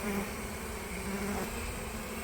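Honeybees swarming near a hive box after foraging, a dense steady buzz of many wings close by, humming continuously without pause.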